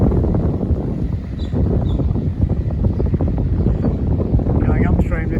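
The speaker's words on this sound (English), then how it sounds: "Very noisy boat." A loud, low rumbling engine of a passing paddle steamer churns close by on the Murray River, steady and noisy, with wind buffeting the microphone.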